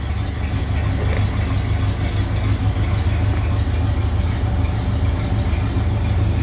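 A Ford Model A engine runs at a steady, loud idle just after starting, a continuous low mechanical chug with a faint rattle and no voices.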